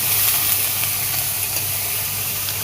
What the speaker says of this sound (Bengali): এখন পেস্ট মশলাগুলো দিয়েও আমি ভালো করে কষিয়ে নেব।